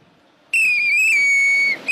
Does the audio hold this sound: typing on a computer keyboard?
no